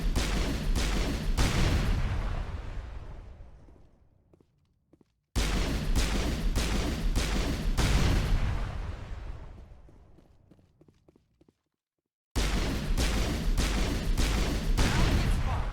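Pistol gunfire in the Mass Effect video game: loud bursts of several rapid shots, each volley followed by a decaying echo and a brief silence, repeating three times with no one talking.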